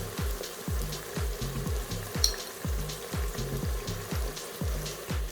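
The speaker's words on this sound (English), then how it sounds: "Give it a nice mix through" Onions sizzling in a pan as coriander powder and spices are stirred through, a steady fry hiss with regular scraping strokes of a spoon and one brief clink, close and moderately loud.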